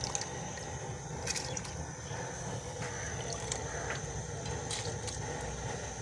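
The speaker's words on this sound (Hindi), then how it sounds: "अब जो है ना दाल भी इसमें पानी गर्म हो आया है, तो इसमें दाल भी डाल दिया जी" Dal lentils are poured into hot water in a pot over a village kitchen fire, giving a soft watery splash and bubbling amid steady background hiss, with no clear voices.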